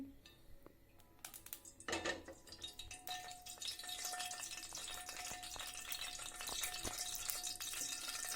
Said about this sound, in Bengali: লইট্টা মাছ তেলে দেওয়ার জন্য আমি